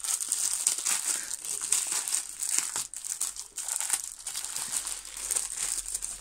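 A crinkly plastic parcel holding a diamond painting kit is opened, a loud close continuous crackling and rustling of wrapping for several seconds with no speech.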